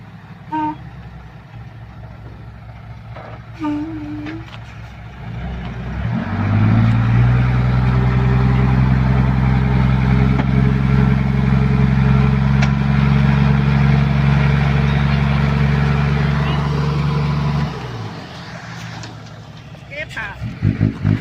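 A dump truck reverses a long way beside a canal to tip soil, its engine swelling into a loud sustained diesel drone for about ten seconds before fading, with faint horn toots and background voices around it.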